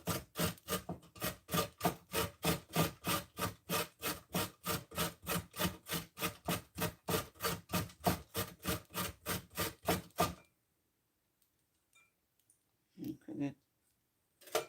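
Vegetables being shredded on a grater for a homemade sandwich, with a fast run of rhythmic rasping strokes for about ten seconds, then quiet and a couple of brief scrapes.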